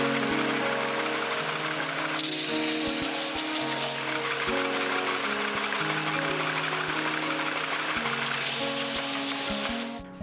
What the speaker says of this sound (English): I'm gonna take it on the belt sander first and get these smoothed down